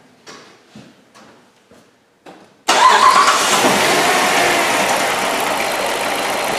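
A Jeep Commander with a dead misfire is cranked over in a few short bursts, then catches and settles into a loud, steady running drone close by.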